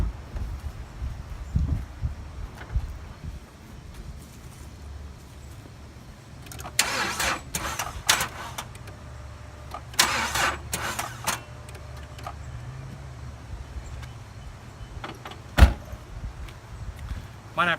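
A car engine with a weak battery cranks in slow, labored bursts. It tries again several times before catching, and the sound is close and fairly loud against a quiet background.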